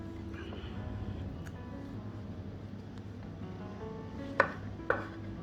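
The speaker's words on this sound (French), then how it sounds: "Maintenant, je vais les équeuter et les couper en petits morceaux" A knife cutting strawberries into small pieces against a quiet hum, ending with two crisp, distinct knife taps on a board near the end.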